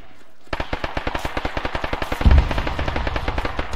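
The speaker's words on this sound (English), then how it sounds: "They're firing through that little dip on the hill, 30." Automatic rifle fire in Arma 3, a rapid, evenly spaced burst of sharp shots close by, followed by a heavy thump and continued rattling fire over a rumbling background.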